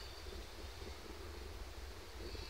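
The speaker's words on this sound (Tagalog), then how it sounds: "Malakas dito mga be ang hangin" Strong seaside wind buffets the microphone in a steady, dense rush, a constant broadband roar with no pauses and no voices.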